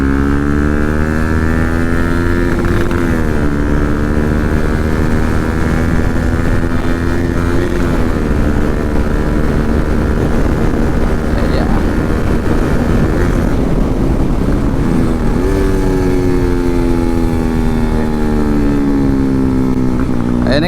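Bajaj NS 200 motorcycle with modified headlights riding on a road, its engine a loud, close, continuous drone that rises and falls in pitch as the rider changes speed.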